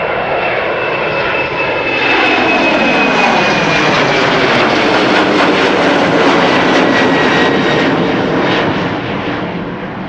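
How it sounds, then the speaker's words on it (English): A Cargolux Boeing 747 in retro livery arrives at Schiphol from Miami, its four engines a loud, close roar with a whining tone that swells after a couple of seconds, holds, then eases slightly as it passes, no talk. "Cargolux 747 in retro livery, if I recall correctly, arriving from Miami, Florida."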